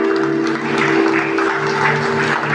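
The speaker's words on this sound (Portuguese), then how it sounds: "Dê uma salva de palmas para Jesus." Congregation in a church service clapping for Jesus, a steady wash of applause over a sustained organ or keyboard chord.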